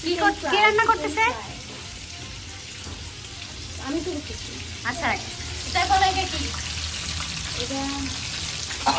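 Chicken pieces frying in a pan at a home kitchen, with steady sizzling running throughout and several people talking loudly over it.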